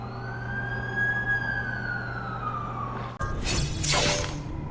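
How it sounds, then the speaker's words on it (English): An ambulance siren in The Amazing Spider-Man 2 video game wails steadily in a rising and falling tone, then cuts off into a loud crash and shattering burst, with no speech. "That's the ambulance I called."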